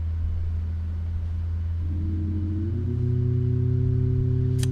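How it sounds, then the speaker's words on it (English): Jet engine of a 737 MAX 8 in the iFly flight simulator spooling up from wing view: a steady low rumble with a tonal whine that climbs in pitch midway and holds, continuous and prominent. "Here's a wing view of it spooling up."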